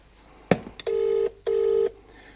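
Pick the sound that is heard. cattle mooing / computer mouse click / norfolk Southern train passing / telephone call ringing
telephone call ringing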